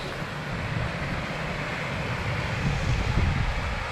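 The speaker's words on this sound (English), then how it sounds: "There's a lush little waterfall down there." A small, lush waterfall in the Northumberland and Scottish Borders countryside pours in a steady, even rush of water, close and moderately loud, with some wind buffeting and no voices.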